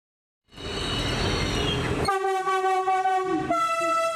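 The Turistik Tuz Ekspresi tourist train between Ankara and Çankırı rumbles steadily past while its horn sounds, first one long tone and then a brighter, louder blast near the end.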